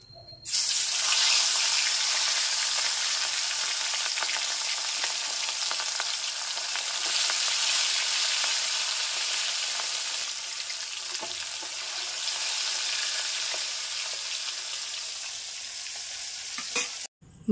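Fish, including hilsa, sizzles and spits in hot oil in a home kitchen pan, a steady loud frying hiss that lasts throughout with slight swells and no talk.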